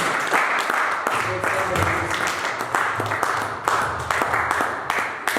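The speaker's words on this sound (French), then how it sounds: "Nous acclamons pour le roi" A church congregation in Metz applauds and cheers during a worship service, a dense and steady wash of clapping with raised voices mixed in, loud and continuous throughout.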